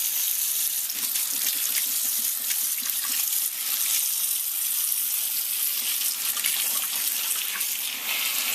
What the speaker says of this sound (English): we're going to get some clear water in here, clear as we can anyway